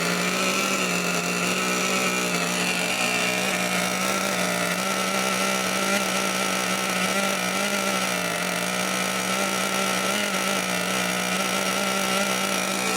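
A Dynamite 31 engine running during break-in, a steady high-pitched buzzing drone that holds at constant revs throughout with no talk.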